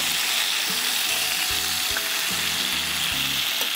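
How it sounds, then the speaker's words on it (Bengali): Tandoori chicken cooking in oil without water, a loud, dense, steady sizzle with faint rhythmic scraping or ticking underneath, nobody speaking. "আমি কিন্তু কোনো পানি ব্যবহার করব না, এই তেলে এটা কুক হয়ে যাবে ভালোমতো কুক হয়ে যাবে"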